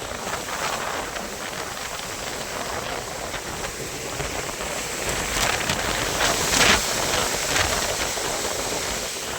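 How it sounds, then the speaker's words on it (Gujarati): Sudden unseasonal rain pouring down outdoors during a storm, a steady broadband hiss of heavy rainfall on surfaces, constant and fairly close, swelling slightly louder midway with no talk. "તો મિત્રો અત્યારે અહીંયા માવઠું ચાલુ થઈ ગયું છે, તમને બતાવું છો."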